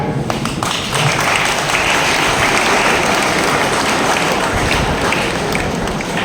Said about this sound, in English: Let us give him a big clap.